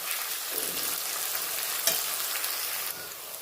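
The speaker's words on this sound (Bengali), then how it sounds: "এই পেঁয়াজ ভাজাটার মধ্যে এগুলো আমি এখন মিক্স করে দিচ্ছি, যতক্ষণ না এই আদা, কাঁচা লঙ্কা, রসুনের কাঁচা গন্ধটা যায় ততক্ষণ অবধি আমি একটু ভেজে" Ginger, green chili and garlic frying with fried onions in a pan for chicken keema, a continuous close sizzle with stirring scrapes and one sharper clatter midway, no voices.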